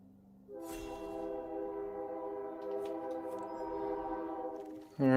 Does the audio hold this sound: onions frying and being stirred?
no